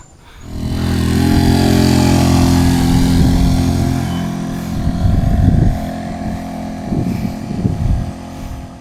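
Motorcycle engine straining on a mountain road ride: a loud, sustained low drone with shifting pitch as it labors uphill, close to the rider, rising and surging in the later part.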